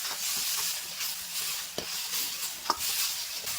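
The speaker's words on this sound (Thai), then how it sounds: "ตามด้วยแครอท แล้วก็ผัดให้เห็ดหอมของเรามีความหอม" Shiitake mushrooms fry with garlic and carrot in a pan, a continuous hiss and sizzle broken by a couple of faint stirring knocks.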